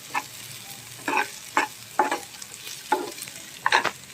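A spoon scrapes and stirs sev into upma in a hot pan, making about six distinct stirring strokes with a soft sizzle underneath, close and clear with no talking.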